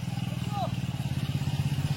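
A motorbike engine runs close by with a steady, pulsing low throb that holds even throughout, and a brief voice is heard over it.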